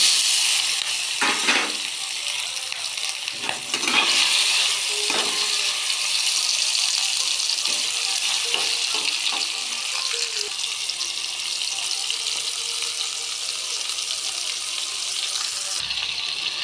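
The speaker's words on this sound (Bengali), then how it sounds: "চিংড়ি মাছগুলো ভেজে নেব" Steady hissing sizzle of shrimp frying in hot oil in a wok, continuous and close, with occasional clinks and stirring noises.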